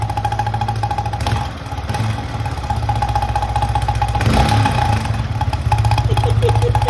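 A motorcycle fitted with a homemade makeshift exhaust modification runs loud and close, its engine droning steadily with slight rises in revs, while someone talks briefly over it.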